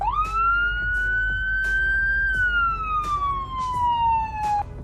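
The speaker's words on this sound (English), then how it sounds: "Here's how the first siren sounds." A single long wailing siren tone from the Greenville Fire Rescue vehicle in the Roblox game, rising then slowly falling, loud and close, with a few repeating clicking ticks over a low engine hum.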